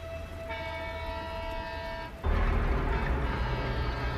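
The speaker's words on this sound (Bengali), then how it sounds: "হুঁশ ফিরল ট্রেনের শব্দে। ট্রেনটা হুইসেল বাজিয়ে স্টেশন ছাড়ল।" A train sounds a sustained harmonic whistle, then a loud rumble takes over as it pulls out of a station, heard alone in a Bengali horror audio story.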